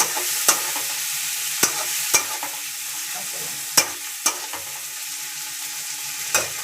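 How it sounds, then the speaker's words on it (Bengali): Tomato fried in a pan for home-style chow mein, a soft steady sizzle punctuated by about eight crisp spatula taps and scrapes at uneven intervals, close by with no speech. "টমেটোটা একটু ভালো করে ভেজে নেব"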